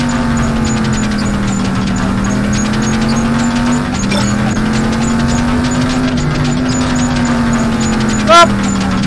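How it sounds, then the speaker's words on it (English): A car drives close by in the horror video game Dark Deception Chapter 3, its engine giving a continuous, steady whine with a sharp burst near the end; a voice talks over it. "He's driving near me, Scoop!"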